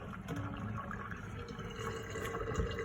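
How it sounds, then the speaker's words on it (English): Rinse water pours steadily off dried pinto beans in a kitchen, a continuous close splashing gush that runs unbroken for a few seconds with no voices. "So I'm going to pour this water out."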